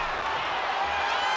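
Crowd noise in the wrestling video game WWE 2K25, a steady broadband roar of cheering from a large arena audience.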